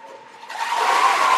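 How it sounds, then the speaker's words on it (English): Baseball crowd at a Grapevine Mustangs game cheering as fans rise to their feet, starting as a faint murmur and swelling into a loud, steady roar of massed voices. "Fans are on their feet and cheering."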